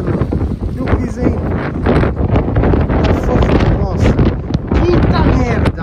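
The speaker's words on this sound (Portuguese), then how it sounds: "Olha esse vento, mano." Strong wind buffets a handheld microphone outdoors in the street during a bike delivery, a constant low roaring rumble running beneath someone talking throughout.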